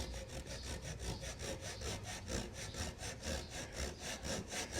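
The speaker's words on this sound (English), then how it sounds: "Now I can cut that off with my pole saw." A pole saw cuts through a wooden kayak strip at a bevel in steady rhythmic strokes, about two per second, close and clear with no talking.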